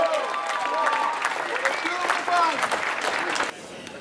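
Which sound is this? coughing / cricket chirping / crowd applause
crowd applause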